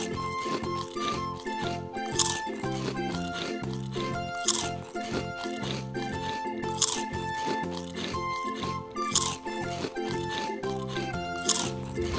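A savory corn-flavored snack, salty like corn, crunches in repeated bites that are chewed close to the microphone in a regular rhythm. A voice talks softly between the bites.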